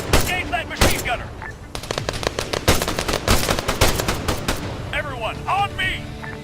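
Rifle and machine gun fire in a combat video game, with dense bursts of rapid automatic shots and single cracks, plus voices and in-game radio chatter mixed through the gunfire.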